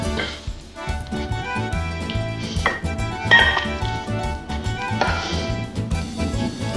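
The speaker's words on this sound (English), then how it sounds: "One thing left to do is spoon it into the bowl." Italian wedding soup spooned into a bowl, with a ladle or spoon clinking and scraping against the pot and dish in a series of close, clattering knocks and taps over a few seconds.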